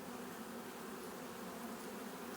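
Honey bees buzz steadily and densely throughout during a hive inspection ten days after a package install, a continuous close drone with no talk.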